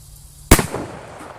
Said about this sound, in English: I'm gonna go shoot this thing.